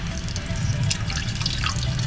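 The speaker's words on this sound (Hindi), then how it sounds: "ये मैं पानी डाल रही हूँ अपने हिसाब से कि कितना डालना है।" Water poured from a glass into a pot of Pakistani fish korma, a close, steady splashing and trickling across the whole stretch with no talk.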